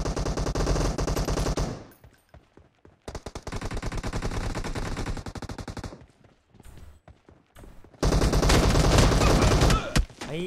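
Rapid automatic gunfire in PUBG Mobile, played on an emulator, with loud sustained bursts broken by short pauses and a final heavy burst, close and dominant.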